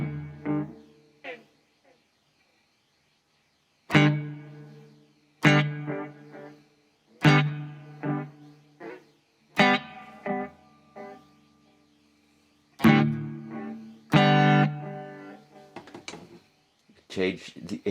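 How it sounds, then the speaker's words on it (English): Electric guitar played through a Blackstar Beam Mini practice amp with tape echo, heard as separate strummed chords and picked notes with trailing repeats, pausing between phrases, close and moderately loud. "Or other types of things like tape echo."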